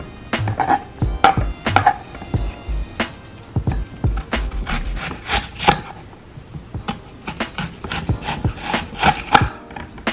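Onions sliced with a knife on a cutting board, a fast run of crisp, close knocks in irregular bursts with short pauses between strokes.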